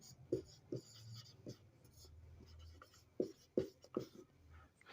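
A pen or pencil writes a geometry answer by hand on paper, producing short scratchy strokes in two quick bursts, close and faint, with no voice over them.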